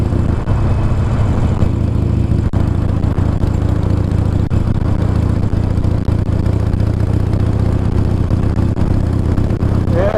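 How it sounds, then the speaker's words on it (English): A 2019 Harley-Davidson Iron 1200 motorcycle riding along a waterfront road near a beach, its steady engine drone blended with loud, constant wind buffeting the microphone throughout, with no clear pauses. "A lot of wind and motorcycle noise."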